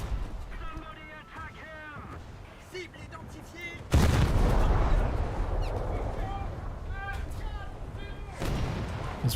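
Naval guns booming in a warship combat game, a heavy roar of fire that swells suddenly and holds loud for several seconds, with a player talking before it and more voice over the top.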